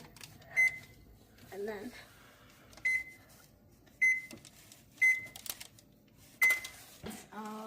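Stove control buttons pressed one after another, each giving a short electronic beep at a steady pace, close by, while someone speaks briefly between presses.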